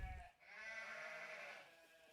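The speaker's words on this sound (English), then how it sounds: "The cries of a young shepherd sheep echoed across the usually tranquil mountain range." A sheep gives a single sustained bleat, a wavering, nasal cry that carries like an echo across a quiet mountain range, faint and alone after a brief low thump.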